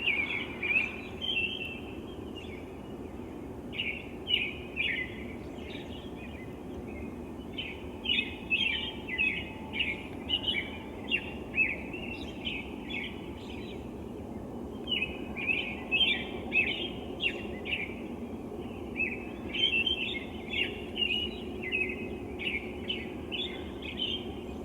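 Small birds chirp overhead in repeated short bursts of high, quick tweets, grouped in clusters with brief gaps, clear and moderately close above a low steady background hum, with no talking.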